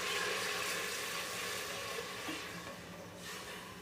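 Water poured into fried masala for lobia dal sets off a hissing, bubbling sizzle in the pot, loudest at the start and settling into a softer simmer, close by with no talk.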